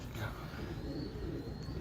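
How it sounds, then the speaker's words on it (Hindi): A green-necked pigeon coos softly and steadily in a low murmur, close by, with a faint higher bird note drifting across. "बहुत खूबसूरत, बहुत खूबसूरत कबूतर है माशाल्लाह। हाँ ग्रीन नेक्ड है ये"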